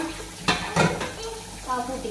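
Dishes being washed at a kitchen sink under running water, with a steady wash of flow and a few sharp clinks of pots and plates, while someone talks over it.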